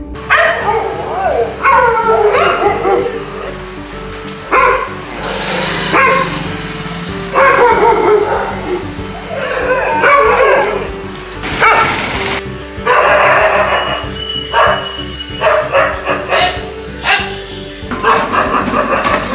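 Stray dogs barking and yipping in a busy Indian city street, repeated barks and whimpers close and far, mixed with crowd noise and voices talking throughout.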